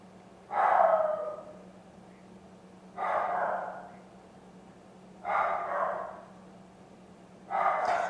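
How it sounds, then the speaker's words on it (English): A dog barks four times at steady intervals, each bark a short burst separated by quiet pauses, heard from a short distance. "Oh, there's my dog."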